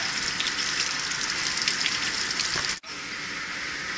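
Oily water drains from a Multistack chiller in a steady, loud rushing gush that briefly cuts out and then continues, with no talk.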